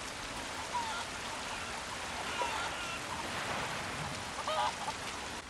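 Cuckoo chickens squawking in Resident Evil 4 Remake VR, a few short clucking calls scattered over a steady noisy game ambience.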